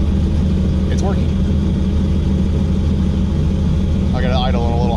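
A supercharged LT1 engine with a 2-bar setup idling a little high, a steady low rumble running under close talking throughout.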